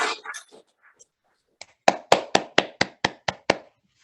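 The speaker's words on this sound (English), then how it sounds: "I did hear some clapping online." Clapping from an online audience at the close of a talk: after a few faint voice sounds, about nine sharp, evenly spaced hand claps ring out in a steady rhythm, fairly close and clear.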